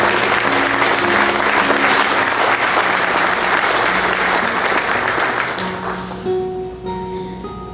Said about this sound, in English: let's do an acknowledgement to them with a round of applause.